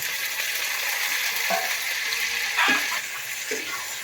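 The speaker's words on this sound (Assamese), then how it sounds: "মাংস ভাজি আছোঁ মই।" Pork sizzles in a pan with onion and chilli, a steady hiss of frying broken by a few stirring scrapes and spatters, close and fairly loud with no voices.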